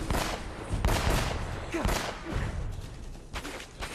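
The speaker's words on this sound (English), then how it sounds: "So of course I'll just snipe him with my pistol." Pistol gunfire in the video game Uncharted: a run of sharp, loud shots in quick bursts with short gaps, over a steady game background.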